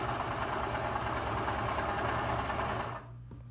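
An old hand-me-down sewing machine stitches in a fast, steady mechanical rattle up close, then stops abruptly, leaving a low hum.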